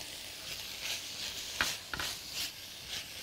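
Garlic goes into a pan of frying onions and meat, giving a soft sizzle with a couple of sharp clicks of a utensil against the pan, quiet and close.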